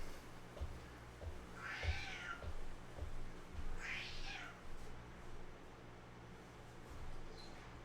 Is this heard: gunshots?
no